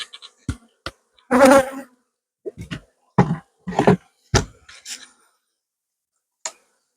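Honeybees buzzing at an apiary hive as frames are shaken, heard as short, close bursts of buzzing with gaps between them, one longer burst early on, and people speaking briefly nearby.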